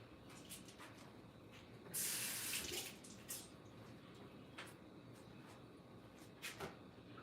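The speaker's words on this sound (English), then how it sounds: "What do you pour in the sink, Kubi?" Liquid pours into a kitchen sink while salsa is being made, a soft, steady watery hiss with a brief louder gush near the start and faint clinks, heard without speech.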